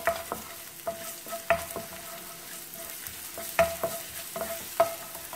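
Shallots stir-fried in cooking oil as a filling, a steady close sizzle broken by regular sharp taps and scrapes of a spatula against the pan, with no voices.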